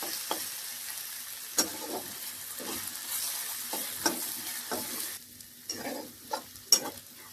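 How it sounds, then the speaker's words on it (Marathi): Ginger and garlic frying in a pan for methi masala, with a steady sizzle broken by repeated stirring scrapes and clinks at an irregular rhythm, close and fairly quiet. "हे बघा, आपला अद्रक लसूण पण छान असं लाल झालेलं आहे."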